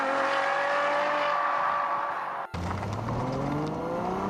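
A Ferrari FF's 6.3-litre naturally aspirated V12 revs hard, with the pitch climbing through one gear, a sudden shift break, then rising again loud and close, with no talking.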